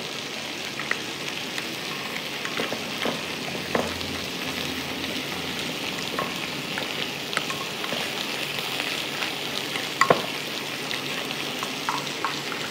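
Marinated chicken frying in a pan, a broad crackling sizzle like light rain that runs throughout, with occasional soft knocks from stirring and one sharper clack near the end, close and steady.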